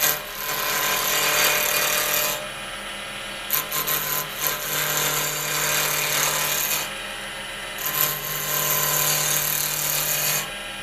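Carbide tool cuts a hard cocobolo pen blank spinning on a wood lathe at around 2,000 RPM, a close, harsh hiss of scraping in bursts with short lighter pauses over the lathe's steady hum.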